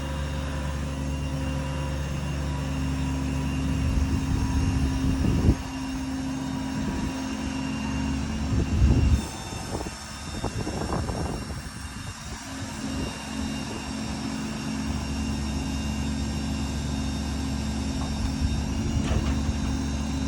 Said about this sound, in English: Incredibly quick winch.